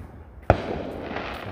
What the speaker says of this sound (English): Fireworks are amazing.